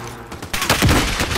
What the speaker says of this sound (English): Guy on the roof started shooting me.